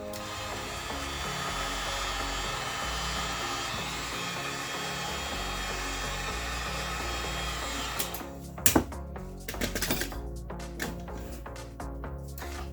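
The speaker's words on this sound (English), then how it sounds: "Now to heat seal the other pieces." A heat gun sealing EVA foam pieces blows a steady, close whirring roar that holds for about eight seconds, then cuts off and leaves a few scattered clicks and handling knocks.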